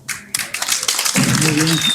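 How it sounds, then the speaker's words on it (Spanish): Applause for student presenters in a classroom: dense clapping from a group of students carries through the clip while a voice speaks over it. "fuerte las palmas para Llamosa Landauro, José Smith"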